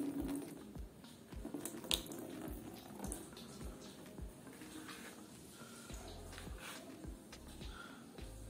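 Water poured over the freshly coated hood of a car, running and splashing across the paint in a steady wash with a few sharper drips, fairly close and moderately quiet, with no talk.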